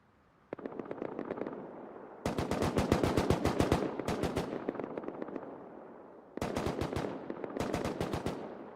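Gunfire in the video game Rust: a single shot opens, followed by several rapid automatic bursts separated by short pauses. The shots are crisp and moderately distant, with no talk.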